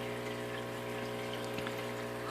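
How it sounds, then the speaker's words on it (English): A water pump runs steadily in the sump tank of a basement aquaponics system, a constant low hum with faint trickling water over it, no voices. "this is the sump tank. As you can see, this is where my pump is right here"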